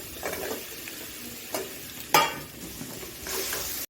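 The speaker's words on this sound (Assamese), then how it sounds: "এতিয়া আমি ইয়াত কাটি থোৱা আলুখিনি দি দিম।" Chopped potatoes frying in a pan with ginger-garlic paste give a continuous sizzle, with stirring scrapes and a sharp crackling burst midway as the potatoes go in.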